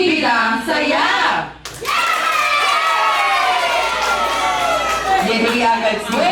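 Children at a birthday party at a Jollibee clap and shout together in a loud, crowded burst, with an excited cheer rising after a brief pause.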